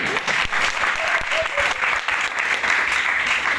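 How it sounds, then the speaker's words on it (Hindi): An audience claps loudly and continuously in a dense, even burst of applause that carries through the whole moment. "अगर मजा आया तो जोर से बजाओ ताली।"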